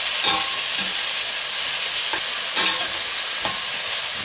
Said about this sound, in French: On va mettre l'oignon, faire cuire quelques secondes.